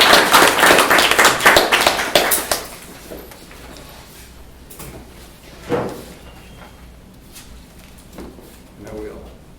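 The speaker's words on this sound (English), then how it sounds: "So let's give our panelists a round of applause" Short burst of audience clapping for panelists at a Miami business symposium, loud for about two and a half seconds, then a few scattered claps and thuds with quiet room tone.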